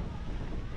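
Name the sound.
strong wind at campsite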